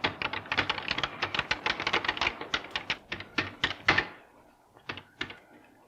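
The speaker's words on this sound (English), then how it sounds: "You talk to the computer by typing things on this keyboard." Rapid, uneven clatter of keys typed on a computer keyboard in a film scene, a dense burst of clicks that slows and stops, then a few last isolated taps.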